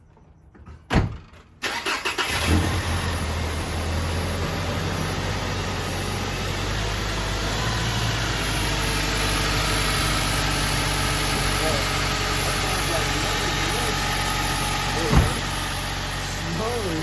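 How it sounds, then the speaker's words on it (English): A car fitted with an E85 flex fuel kit cranks briefly and fires up, then settles into a steady, close idle that hums on evenly for the rest of the clip. "try to start the car."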